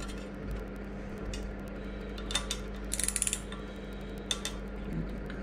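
Quiet metallic ratcheting clicks, including a short rapid burst, as a 14 mm wrench turns the fork lock nut on a 2008 Kawasaki Ninja ZX10R, over a steady low workshop hum.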